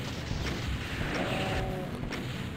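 The BFG fires in the Doom WAD Hell Revealed 2, on map 22, Sewer Slaughter, against a Cyberdemon. It makes a loud, sustained roaring blast with a rising whine partway through, filling the whole moment.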